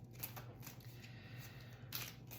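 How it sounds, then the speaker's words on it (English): Tarot cards being shuffled, soft faint riffling and flicking of card stock, quiet and close with a couple of sharper slaps, no talking. "I'll just do another shuffle."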